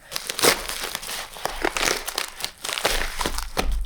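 Packaging holding art prints and stickers being unwrapped, with close, loud crinkling and rustling in irregular bursts and brief pauses between them, no voices.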